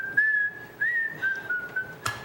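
A single person whistles a melody from The Wizard of Oz, a clear, close solo line of several sliding phrases with no talking.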